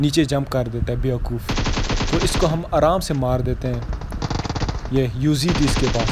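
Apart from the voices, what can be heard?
gunfire in a battle royale video game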